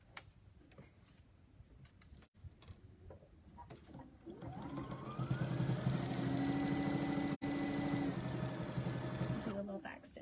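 A sewing machine runs a short back stitch on a fabric bowl cozy, a steady whirring buzz that climbs in pitch and then holds. Faint clicks and handling noises come first, and a single sharp tick breaks the run.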